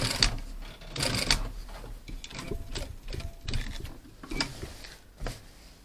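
A domestic sewing machine stitches a seam while a zipper is replaced in jeans, giving a steady rapid mechanical whirr and clatter with uneven bursts and small pauses, close and clear without talking.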